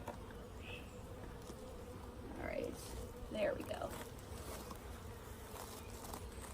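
Honeybees from a newly installed package hive with a new queen drone in a steady low buzz around the opened hive, with a couple of louder swells as someone speaks briefly nearby.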